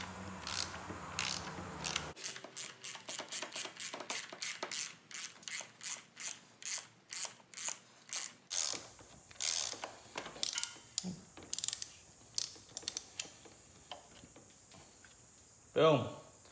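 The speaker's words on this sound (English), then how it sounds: "We got a 10 millimeter, which will take off this little nut." A 10 mm ratchet loosens a small nut holding an ignition coil on a Honda/Acura V6 during a spark plug job, giving a long series of quick, close clicking pawl strokes in steady bursts, with a brief louder clunk near the end.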